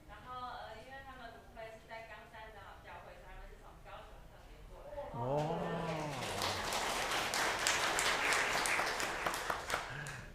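Applause from a church congregation at a Sunday worship service, building from about five seconds in and continuing steadily to the end, with speech heard over the start.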